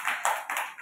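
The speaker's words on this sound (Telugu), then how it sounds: "క్లాప్స్ కొట్టండి. క్లాప్స్. Clap your hands." A few rapid hand claps from young children in an Anganwadi classroom, close and fairly bright, coming in three quick bursts over less than a second.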